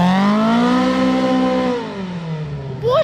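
A Polaris RZR Pro R side-by-side accelerates hard, its loud engine whining upward in pitch and then dropping as it shifts or backs off, ending with a sharp rising rev burst, heard close with no talking.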